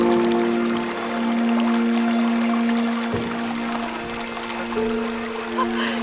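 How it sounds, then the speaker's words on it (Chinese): A small mountain stream in Jasper National Park flows and trickles steadily as water is fetched, a continuous close wash with occasional splashes. "这边就有那个小溪"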